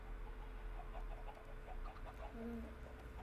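A Minecraft chicken clucks and coos softly in short bursts over a faint steady background hum, with a brief tonal sound near the end.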